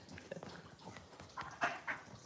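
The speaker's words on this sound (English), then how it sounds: "he wants the other two dogs to go away. That's why he's like grumbling." A dog grumbles at two other dogs, low growly whimpers and short yips in a few uneven bursts, fairly close, with a louder pair near the end.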